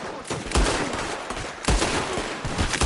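Heavy bursts of gunfire in a PS4 video game, two loud clusters of rapid shots with crashing impacts, fairly close and dominating the mix.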